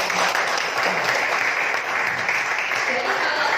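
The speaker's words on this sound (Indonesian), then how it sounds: "Ya, boleh tepuk tangan dong buat" Audience applause at a leadership roadshow event, a continuous, fairly loud wash of many hands clapping that stays steady from start to finish.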